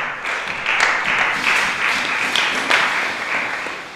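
A church congregation breaks into steady applause, many hands clapping together in a dense, even wash that swells slightly and then begins to fade.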